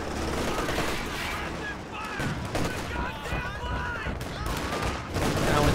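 Dense, continuous crackling battle fire fills a video game fight as bazookas and anti-tank rifles open up, a busy fusillade with no clear pauses.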